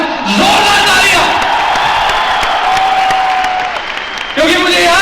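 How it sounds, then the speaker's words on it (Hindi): Loud, close crowd applause and cheering fill an award function hall, with a voice calling out over the steady clapping and a fresh burst of noise near the end. "एक बार जोरदार तालियां"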